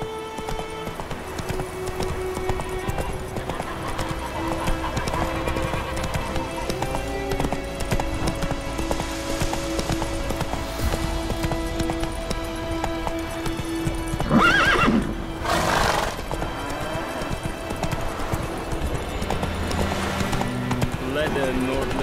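Horse hooves clip-clopping at a gallop with neighs and whinnies from the mount in The Witcher 3 video game, steady throughout over layered game music, with a brief spoken line.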